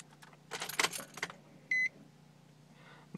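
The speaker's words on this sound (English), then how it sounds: "Then turn on ignition." A key turned in the ignition of a Nissan or Infiniti car, a quick metallic jangle of keys followed by a short, clear electronic chime, then quiet.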